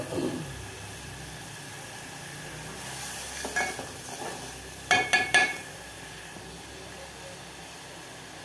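Potatoes and brinjal are tipped into a hot pan and stirred, so a faint low sizzle runs throughout while several sharper scrapes and clatters of the spoon stand out near the middle, with no talking.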